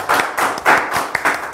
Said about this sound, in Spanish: Ella es Mitze Maíz y le damos un fuerte aplauso.